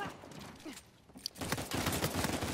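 Pistol fire in an online Uncharted 4 King of the Hill match on the Prison map, with a few sharp shots early and then a dense, rattling burst of rapid gunfire filling the second half.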